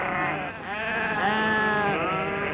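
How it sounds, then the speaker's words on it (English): Sheep bleat in a 1954 farm drama, one long wavering, nasal cry after another in close succession, loud and near with no talk over them. "She's looking for my sheep, Jeff"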